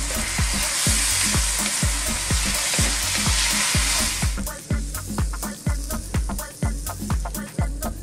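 Sotanghon noodles with chicken sizzle and fry in a pan while being stirred continuously, with rhythmic scraping strokes of the utensil against the pan repeating steadily over the crackle.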